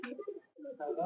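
Champion pigeons in Pakistan coo up close in a short, soft, throaty burst, with a brief pause before the calls resume.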